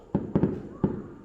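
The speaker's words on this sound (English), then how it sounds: "fireworks." Fireworks going off outdoors in Mauritius, a few sharp, fairly loud bangs in irregular succession, heard close with no talk over them.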